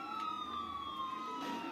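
A police car siren from a video game wails steadily with a continuous electronic tone, moderately loud, with no talking.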